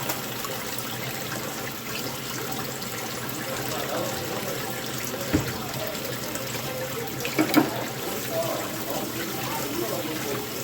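Tap water runs steadily in a continuous splashing hiss while a yellow stone cast is rinsed under it, with a couple of brief knocks partway through.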